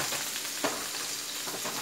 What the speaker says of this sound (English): Gonna flip the hamburger over.